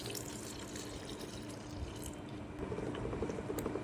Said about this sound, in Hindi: अब हम इसमें थोड़ा सा पानी मिक्स करेंगे, थोड़ा सा पानी डालेंगे